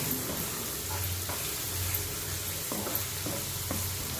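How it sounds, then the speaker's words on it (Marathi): Finely chopped onion sautés in hot oil over medium-high flame for a surmai fish curry, a soft steady sizzle with a few light stirring scrapes, fairly quiet and without speech. "मीडियम टू हाय फ्लेमवर कांदा अशा पद्धतीने व्यवस्थित परतून घ्या"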